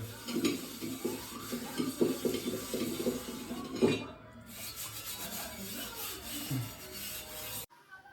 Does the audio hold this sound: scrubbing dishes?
yes